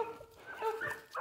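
A grown pitbull whimpers and whines in short, faint, high-pitched bursts close by, broken by brief pauses.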